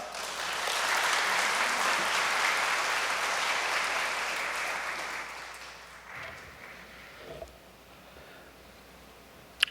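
An audience at a church gathering applauds to welcome a speaker for a special report, a dense and steady clapping that fades over several seconds, followed by a few faint knocks.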